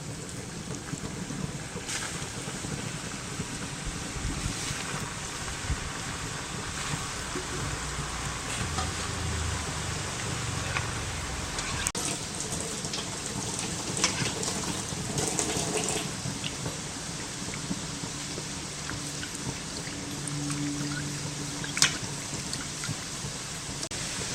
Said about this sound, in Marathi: अशाच प्रकारे आपण आता हे पुढचे पॅटीस तळून घेऊया